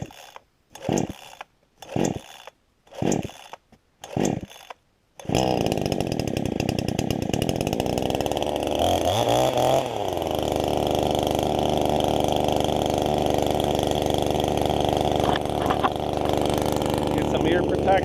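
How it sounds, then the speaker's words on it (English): Chainsaw cutting trees for hinge cuts while improving a whitetail deer bedding area; a few short revving bursts with gaps come first, then the saw runs loud and close in one long, steady cut. "Let's get the chainsaw going and start."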